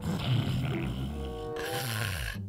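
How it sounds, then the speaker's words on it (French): A person snoring while wearing an anti-snoring product, producing a rough, low, rattling snore drawn out over a couple of seconds, close and fairly loud. "Je peux quand même ronfler, hein."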